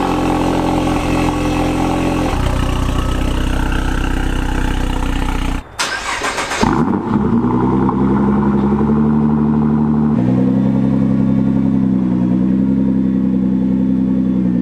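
A remapped car engine cold-starts: a steady running drone breaks off into a brief rough burst of cranking, then settles into a loud, even idle close by.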